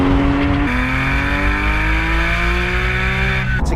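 A Porsche 911 GT3 Touring with its Cup-derived engine revving on the road, a loud, near engine note climbing steadily in pitch through a gear after a quick shift, alone with no talk.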